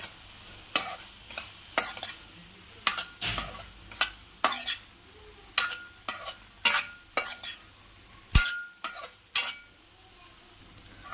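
Ridge gourd and tomato curry with chili powder frying in a pan, stirred in a steady series of distinct scraping strokes over a soft sizzle, close and fairly loud, with no talking.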